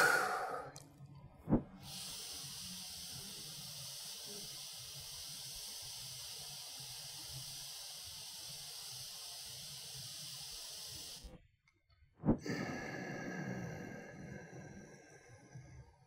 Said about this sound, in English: Keep your mouth closed, breathing through your nose